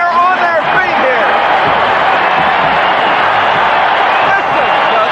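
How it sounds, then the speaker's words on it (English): Football stadium crowd roaring at the Kingdome during a 1981 Steelers–Seahawks game, a loud sustained wall of cheering and whoops with a commentator talking over it. "Listen to this crowd in the kingdom."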